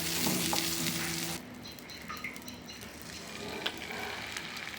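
Butter sizzles on a hot pan while a bread sandwich is made, a steady frying hiss with a few faint metallic scrapes, louder at the start and then settling into a softer crackle.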